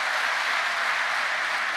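An audience applauds at a live event, a dense, steady patter of clapping hands that carries through the whole moment without a break.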